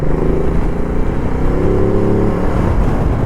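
Ducati Multistrada 1200 S motorcycle engine running steadily and close through a downshift, a continuous loud throaty drone with slight surges and no speech.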